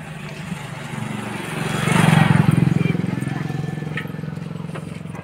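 Motorcycle on a village road, its engine idling and then revving up in a rising, throbbing drone that swells midway and settles back, close and fairly loud.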